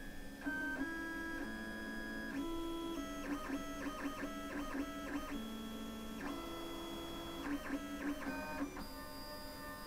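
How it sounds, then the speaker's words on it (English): A 3D printer runs its motors in stepped, whining tones as it wipes the nozzle across a felt pad, with a steady mechanical hum and changing pitches throughout. "the next part should be coming and wiping the nozzle on that felt pad to make sure it's nice and clean"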